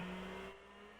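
A car engine in the video game GTA IV hums steadily with a low tonal drone, loud at first then easing slightly midway, with no talking.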